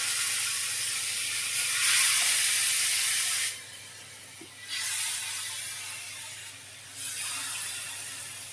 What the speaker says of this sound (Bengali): আঁচটা কমিয়ে দেবো তারপরে আস্তে আস্তে মাছগুলোকে এভাবে ভাজিয়ে দেবো